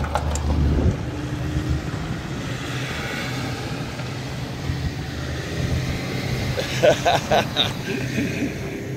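Old cars pulling away at a Bull Run event heading for the pans: a continuous mix of engine rumble, with a few short tonal bursts near the end and faint voices in the background.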